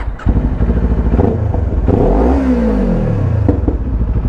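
A Kawasaki Ninja 400 motorcycle running a Bauce Racing ECU tune revs up close and loud, its engine note climbing and then falling as it accelerates, with no voices.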